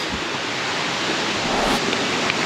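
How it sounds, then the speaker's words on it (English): A waterfall beside a hiking trail gives off a loud, unbroken roar of falling water, close by and steady, with some wind buffeting mixed in. "I got a beautiful waterfall just over here off to my left."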